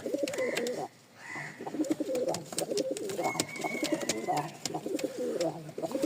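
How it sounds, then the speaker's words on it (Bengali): Pigeons from a running breeding pair coo in soft, repeated low calls close by, the cooing carrying on through the whole stretch with brief pauses and some voices mixed in. "এই দেখেন কবুতর"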